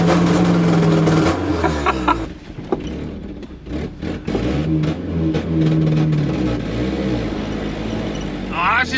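Car engine running on 152-proof Everclear alcohol in place of fuel, popping and stumbling, unable to rev past about 3,000 rpm; loud, uneven engine noise close by, with a voice speaking over it.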